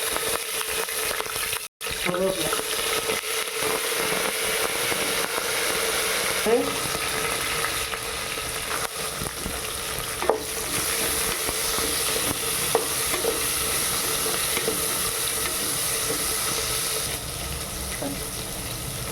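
Mustard seeds, urad dal and chillies frying in ghee for a tempering, a steady close crackling sizzle with occasional stirring clinks, running unbroken through the whole stretch.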